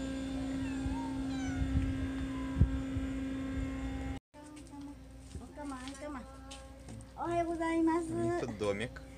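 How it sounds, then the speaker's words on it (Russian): Cats at a harbour on the Shikoku pilgrimage route in Japan give several rising and falling meows in the second half, over a steady hum. Someone talks in the clip. "Коты, коты, сплошные коты,"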